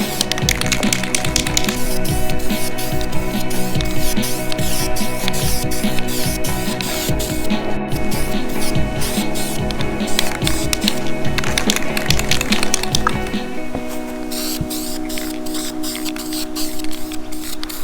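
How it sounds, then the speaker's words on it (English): An aerosol can sprays pink glitter paint onto 4AGE engine valve covers for a KE70, a continuous close hiss broken by crackling sputters and clicks, easing slightly toward the end. "these cans suck though. It just does little blobs every now and then"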